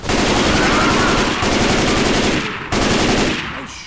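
Loud, rapid automatic gunfire from Left 4 Dead 2 gameplay, with sustained bursts broken by two short pauses before the shooting resumes and fades.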